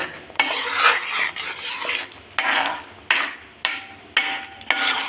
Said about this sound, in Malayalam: ഈ പാലൊക്കെ ഒഴിച്ചു കഴിഞ്ഞാൽ പിന്നെ ഇളക്കി ഇളക്കി ഇളക്കിക്കൊണ്ടിരിക്കണം